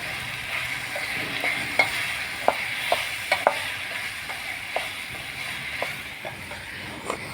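Food is stirred in a frying pan with added ginger, giving a steady background sizzle broken by irregular sharp scrapes and taps of the spoon against the pan.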